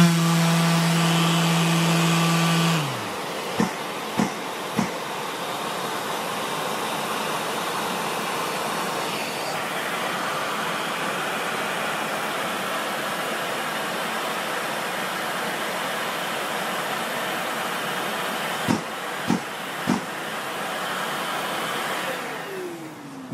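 A Bosch GAS 35M AFC workshop vacuum cleaner runs with a steady broadband roar for the whole stretch, kicked off by a brief low whine as it starts, with a few sharp clicks near the start and again later.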